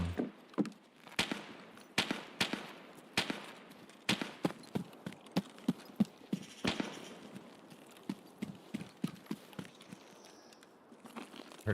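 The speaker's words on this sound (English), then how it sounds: "it was not footsteps. It was suppressed shots" Suppressed gunshots in Escape from Tarkov, a string of sharp muffled pops in irregular clusters, some close together and some spaced out, moderately loud and with no talking over them.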